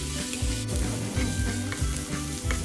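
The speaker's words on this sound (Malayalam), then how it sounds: "അതിലേക്ക് ഗാർലിക് ഇട്ട് ഒന്ന് ചൂടായാൽ അതിലേക്ക് ഒനിയനും കൂടി ഇട്ട് ഒന്ന് വാട്ടിയെടുക്കാം." Garlic and onion sizzle steadily in hot oil in a pan, a constant close frying hiss with soft rhythmic stirring underneath and no talking.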